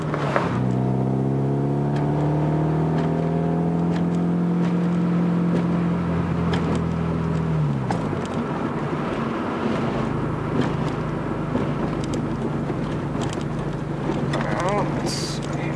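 A car engine climbs steadily in pitch as it revs through first, second and third gear up to about 5,000 RPM, then drops back to a steady drone. Wind noise runs under the close, loud engine.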